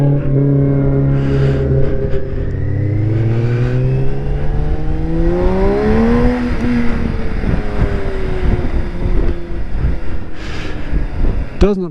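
A BMW K1600 GT sport touring motorcycle is ridden over Guardsman's Pass. The engine's droning tone climbs in pitch, drops and climbs again, with steady wind rush around it.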